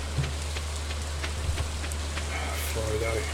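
Steady rain hiss from the farming game Stardew Valley, a constant wash of falling drops with low droning game ambience underneath and a few faint chimes, continuous and moderately loud throughout.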